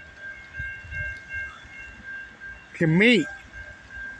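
At a railroad crossing in Michigan, a train's horn sounds one short, loud wavering blast over faint background rumble, with brief speech nearby.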